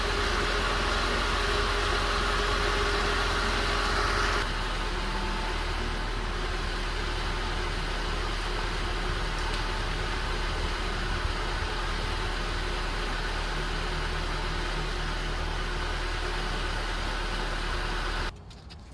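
A 1994 Nissan D21 Hardbody truck engine idles steadily while warming up, with a low, constant rumble and broadband hiss, continuing unchanged for a long stretch before cutting off abruptly.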